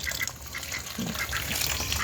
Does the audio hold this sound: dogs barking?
no